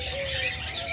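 A pair of yellow lovebirds gives a quick, high chirp close by, standing out briefly over a steady low background hum.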